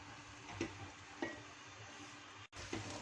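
Spices toast with chicken in a pot for a quick Saudi kabsa, a quiet low sizzle broken by a few soft stirring scrapes and one brief gap.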